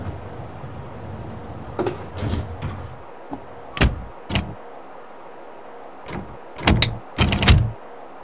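Train doors on a Chicago CTA Brown Line train closing in the PS3 game Railfan, a series of sharp thuds and sliding clunks with short mechanical bursts, separated by quiet gaps.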